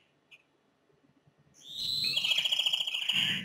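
Silence with a faint tick, then a bright bird chirping rapidly in a sustained trill, close and fairly loud.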